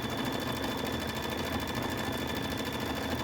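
A Luminaire embroidery sewing machine runs its first stitch-out: a steady, fast, even mechanical whirring hum that stays loud and close throughout, with no talking.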